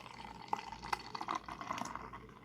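Peach sour ale poured into a glass, a soft liquid trickle with small splashes and fizzy bubbling, quiet and close, with no talking.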